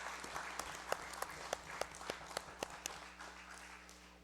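Members of a student congress session applaud, heard as faint, sparse, evenly spaced claps from a small group in a quiet room with a steady electrical hum, fading toward the end.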